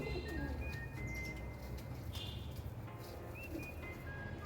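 Siraji pigeon, a Lahore breed with a white chest, cooing in low repeated calls close by over soft background noise, with faint chirps.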